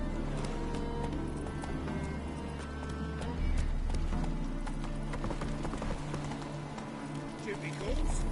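A horse named Roach gallops in The Witcher 3 video game, with rapid rhythmic hoofbeats at a steady pace over game music and ambient sound.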